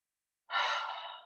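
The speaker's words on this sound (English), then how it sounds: "Exhale, 2 more big breaths in." A single long, deep exhale during yoga practice, breathy and close, beginning after a moment of silence and fading out slowly.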